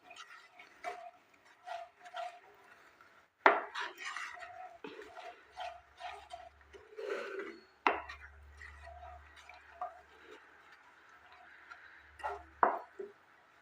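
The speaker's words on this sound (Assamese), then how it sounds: "এইদৰে মিডিয়াম ফ্লেমত মই লৰাই আছোঁ।" A spoon stirring a pitha mixture in a pan over medium flame, irregular scrapes and knocks against the metal at close range, separated by quiet gaps, with occasional brief hums.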